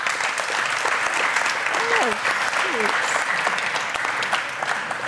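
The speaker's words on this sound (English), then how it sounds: "let's have a round of applause if you've made a gopher with Gopher as Me" Conference audience at a Golang UK event applauding in a thick, continuous round of clapping that fills the room, with a brief voice heard over it.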